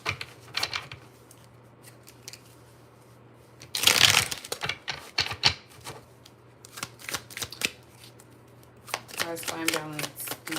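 A deck of tarot cards is shuffled for a reading, with quick crisp riffles and flicks in short bursts and a louder shuffle in the middle, over a quiet background hum.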